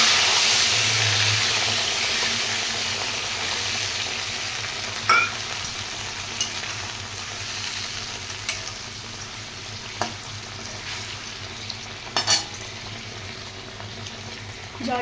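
Black cumin seeds temper in hot oil beside frying hilsa fish in a Bengali mustard hilsa dish, giving a steady sizzle and crackle with a few sharp utensil clinks and scrapes, and no talk.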